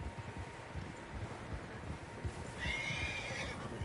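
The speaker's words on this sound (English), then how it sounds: "Horses, quite a few of them." Several horses in the Red Dead Redemption video game neigh and whinny in an outdoor scene, a high wavering whinny rising clearly near the end over soft wind and faint hoof clopping.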